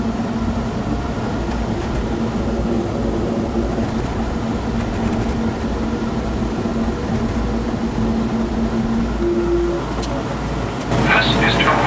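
An automated airport terminal train rolling toward Terminal C, with a steady rumbling ride noise, a brief tonal beep, and a chime near the end, with people talking over it.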